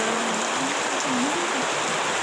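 Dense, steady roar of heavy rain pouring down, loud and close, with no break across the whole stretch.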